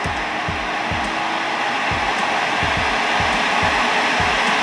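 A MelodySusie SProR cordless dust collector motor runs on low speed, whirring steadily and loudly throughout, a constant airy drone with faint low thumps underneath.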